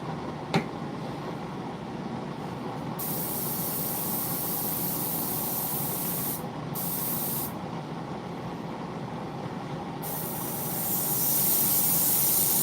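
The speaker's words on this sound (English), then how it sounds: "this stuff is so thick, it's like barely spraying" A sprayer forces out a very thick liquid, likely a gunmetal-coloured paint or coating, in a steady, close, broadband hiss that runs almost without a break, with a brief tap near the start and a swell toward the end.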